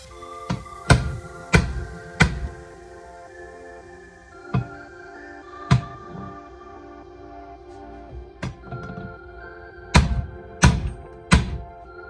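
A u-joint cap is hammered down onto the driveshaft of a 1999 Ford F350, heard as sharp, close metallic blows in scattered bursts of two or three, with short pauses between groups.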